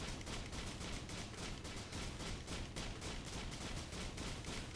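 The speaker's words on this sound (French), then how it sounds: "quand on tire à deux, on entend les deux bruits" Rapid gunfire from two players shooting together in the Risk of Rain video game, a dense unbroken crackle of overlapping shots at a steady volume with no talking.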